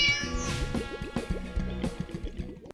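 A pet cat meows repeatedly while held in a hug, a string of close, loud, tonal cries in quick succession with no talking.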